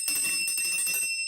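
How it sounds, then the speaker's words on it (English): A bell kept in a home and likened to a church bell is rung loudly up close, giving several quick bright metallic strikes with shimmering overtones that stop abruptly after about a second. "That church bell."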